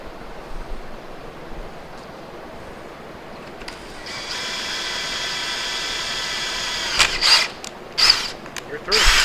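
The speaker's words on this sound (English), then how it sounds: "so we've drilled all the way through because it is a through hole instead of a stop" A drill boring a through hole in a part for a 1996 Kawasaki KX100 dirt bike build, a steady whining hum that starts midway and rises, with sharper bursts of cutting noise near the end.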